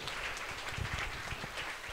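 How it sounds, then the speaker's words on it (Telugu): Audience applause at a Telugu public gathering during a small felicitation ceremony, a steady wash of many hands clapping at moderate volume, continuous throughout without voices over it. "అందరూ మీ చప్పట్లతో స్వాగతించాల్సిందిగా అందరినీ మనస్ఫూర్తిగా కోరుచున్నాం"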